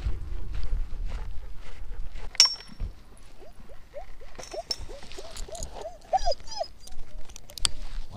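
A dog whines outdoors with a run of short, high, rising-and-falling whimpers in the middle of the clip, fairly close and moderately loud over light background noise.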